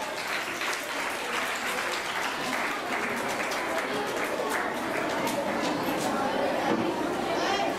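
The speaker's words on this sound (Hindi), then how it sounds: "सारे बच्चे तालियों से स्वागत करें बच्चे का।" Children applauding at a school prize distribution for an art and choral recitation contest, a steady, dense wash of clapping from a large group that carries on throughout, with crowd chatter mixed in.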